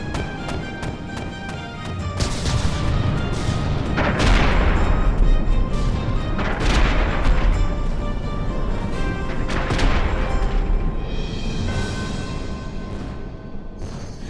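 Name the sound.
cannons firing at pirates in video game From the Depths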